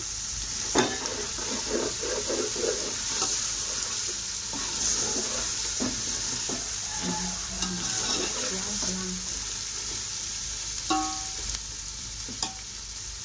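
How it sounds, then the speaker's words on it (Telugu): Tomatoes with mint and coriander frying in a pan for prawn biryani, a steady sizzle under repeated scraping and stirring strokes of a spatula, close and moderately loud. "వేసుకొని టమాటాలు కొంచెం మెత్తపడే వరకు మనం ఫ్రై చేసుకుందాం"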